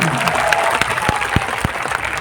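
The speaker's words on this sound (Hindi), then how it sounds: "ऐसे संतों के लिए, ऐसे युवाओं के लिए जोरदार तालियां बजा दीजिए।" Loud, dense applause from a crowd at an outdoor cow-protection religious gathering honouring saints and youths, steady clapping throughout with a few sharper claps standing out.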